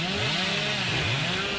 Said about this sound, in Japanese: チェーンソー決めたいけどね。